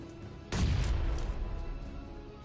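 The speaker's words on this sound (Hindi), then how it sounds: "भाई मैं भागा जैसे उसने ग्रेनेड किया" A grenade goes off in a first-person shooter match, a single loud booming blast with a sharp onset whose broad rumble slowly decays and lingers to the end.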